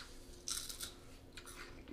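Crisp crunching of Harvest Snaps salted caramel snack crisps being chewed close up, a few brittle bursts in quick succession with no talking.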